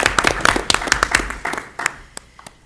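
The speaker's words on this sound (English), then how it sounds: "clap for Tara" Scattered, distinct hand claps at a school board of education meeting welcome a new principal to the podium. The claps are irregular and sparse, thinning out over a couple of seconds.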